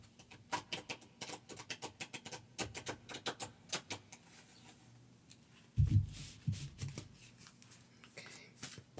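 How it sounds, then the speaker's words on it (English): A deck of cards shuffled gently in a lap, heard as soft, rapid riffling and flicking that comes in quick bursts, faint and close, with one louder rustle partway through. "Now, I'm going to try to shuffle these gently in my lap so that it's not too loud."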